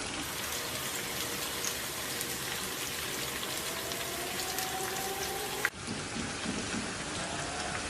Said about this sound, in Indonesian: Siapkan wajan dan minyak kalau sudah panas. Masukkan bahan-bahannya. Kita akan goreng sampai nanti matang.